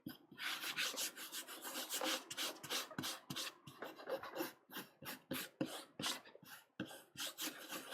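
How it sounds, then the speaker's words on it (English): Dry, rhythmic rasping strokes of a rubbing tool over paper on a Japanese woodblock, quick repeated scrubs close up and fairly quiet, with no voices. "Don't rub too much, Dave."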